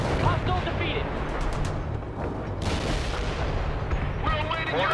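Mortar artillery fire in the video game World in Conflict rumbles as a dense, continuous barrage of booms and blasts, with radio-style voices talking over it.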